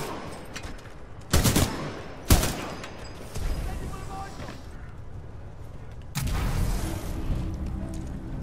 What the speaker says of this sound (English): I'm just shooting everybody now.